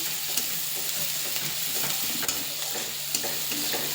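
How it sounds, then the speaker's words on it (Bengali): Chopped garlic frying with onion in a pan, a dense steady sizzle broken by soft stirring scrapes every half second or so, close and unaccompanied by speech. "রসুন কুচি, রসুনটা একটু ভালো করে ভেজে নেব, লাল লাল করে।"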